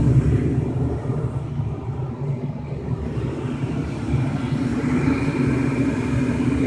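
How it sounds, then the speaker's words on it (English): A Lennox 90,000 BTU gas furnace fires its burners, giving a steady, loud low roar and rumble that holds evenly, with a slight lift in intensity partway through. "Alright, there go the burners."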